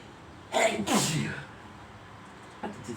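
One person sneezes twice close up, a sharp two-part burst followed by a softer second one, then brief quiet and a faint sniff.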